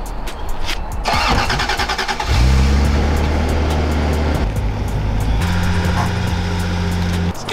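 A Toyota Supra engine starts up and revs loudly nearby, a steady mid-pitched drone holding for several seconds with a heavier surge partway through.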